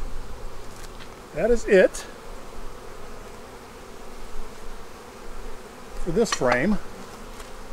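Honey bees buzz steadily at an open hive frame, a dense continuous hum close by, while a person speaks briefly twice over it.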